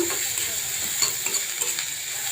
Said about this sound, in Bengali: আমি পেঁয়াজটা একটু লাল লাল করে ভেজে নিব।